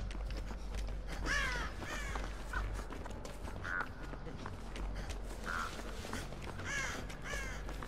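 Crows caw in the game Dead by Daylight, several harsh repeated calls rising at intervals over a low rumble and rustling movement, fairly close and clear.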